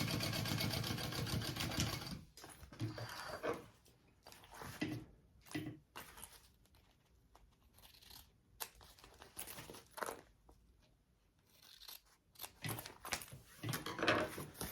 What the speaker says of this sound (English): Flip it up and do your top stitching